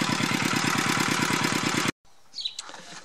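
Walk-behind tractor engine idling with a steady, loud, even pulsing rhythm for about two seconds, then cutting off abruptly into near silence with faint rustling and a brief high squeak.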